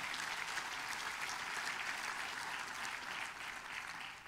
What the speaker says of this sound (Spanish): un aplauso al Dios Todopoderoso que nos ha dado la vida.